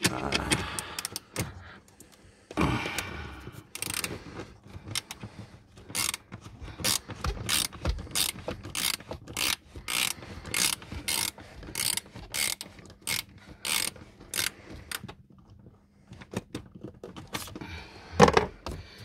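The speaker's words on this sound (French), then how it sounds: "on a 2 douilles ici. De 8 pour enlever le cache" A hand ratchet fitted with an 8 mm socket clicks in a steady run of sharp, evenly spaced pawl ticks while unscrewing a small cover screw on a car, close and clear with faint handling noise between strokes.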